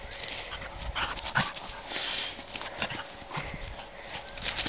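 A dog running through garden beds outdoors, with quick irregular thumping footfalls and rustling of soil and plants, fairly close, with no talk in between.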